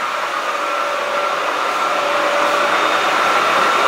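A heavy duty gap bed engine lathe runs at high speed with a steady, loud whine and hum, constant throughout with no talk.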